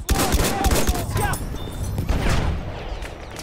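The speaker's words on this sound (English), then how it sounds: "Machine gun! One of theirs!" Machine gun fire in a Battlefield 1 battle, rapid close bursts of sharp shots rattling loudly at the start, easing, then picking up again amid ongoing combat noise.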